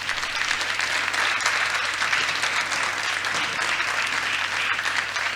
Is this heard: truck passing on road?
no